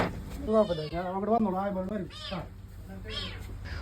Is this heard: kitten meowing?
yes